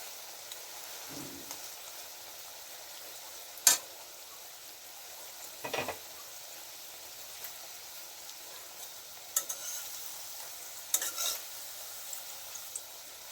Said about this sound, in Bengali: যেহেতু আমি একটু কম তেলে ভাজছি